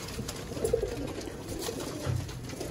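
Pigeons coo softly in a loft in Sialkot, a few short, low throaty calls close by over a steady background hum, with no speech.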